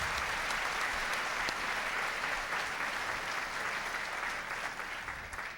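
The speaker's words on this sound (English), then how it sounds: "So please give them a round of applause." Sustained applause from a pageant audience fills the room, a dense, even patter of many hands clapping at moderate volume for several seconds before beginning to taper.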